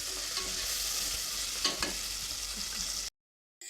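Mutton mixed with chili powder, turmeric and salt is stirred in a pan, giving a steady close scraping and stirring with a soft sizzle throughout, a couple of sharper knocks midway, then a sudden cut to silence near the end.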